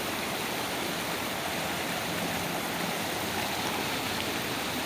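A river stream at Puncak Asih Cisadap in Ciamis flows in a steady, dense broadband rush, close and even throughout with no voices.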